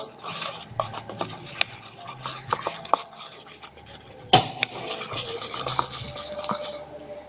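Clear slime mixture stirred in a small bowl, a soft continuous scraping and rubbing with scattered clicks and taps of the utensil against the bowl, close and quiet with no talking.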